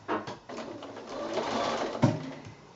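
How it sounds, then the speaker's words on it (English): A sewing machine stitches a quarter-inch seam on a garden path quilt, running in a steady close whir with a brief stop and restart partway through, alone without talk. "start sewing again with your 1/4 inch seam allowance"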